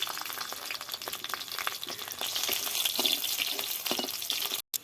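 Small river fish fry with cumin as garlic is added, a continuous close sizzle with scraping stir sounds that briefly cuts out near the end.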